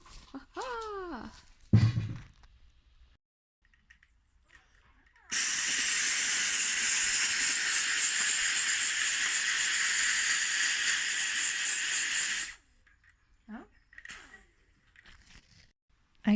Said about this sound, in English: the 20-year-old steam cleaner wasn't very cooperative in the end